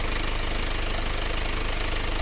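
Mazda Bongo engine running while warming up, a dense, loud, steady rumble with a rapid even knock-like pulse, close and unbroken throughout with no talk.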